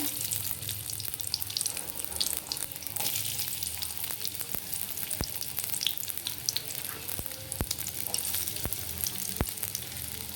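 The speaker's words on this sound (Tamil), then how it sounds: "வெங்காயம் நல்லா வதங்கட்டும்" Chopped onions sizzling steadily in hot oil in a pan for a prawn-head gravy, a dense continuous crackle with occasional sharp clicks from stirring, loud and close with no voices.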